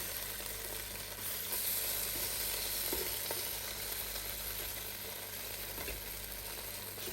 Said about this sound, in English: we've had a good mix around now